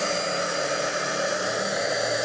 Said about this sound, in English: And so now I'm going to grab my heat tool.